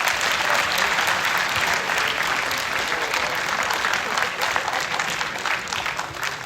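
A college dramatics club audience applauds after a campus play, a dense, steady wash of clapping that holds loud throughout with no voices standing out.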